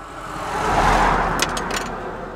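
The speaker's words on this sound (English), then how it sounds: "Other cars go whizzing past" Cars speeding past on a road in the Sussex countryside, a broad whoosh swelling to a peak near the middle and fading again as traffic passes fairly close, with no voices.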